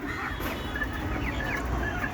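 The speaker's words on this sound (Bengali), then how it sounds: "এই যে দেখেন, এগুলো হচ্ছে ছোটো মুরগি।" Young desi hens cluck in a steady, close crowd of faint, overlapping chirps and murmurs over continuous coop noise, with no talking.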